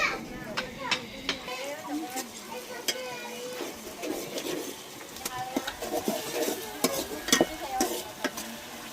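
Chopped onions fry in a home kitchen pan, a soft sizzle under repeated stirring scrapes and clinks of a utensil against the pan, with a voice talking intermittently nearby.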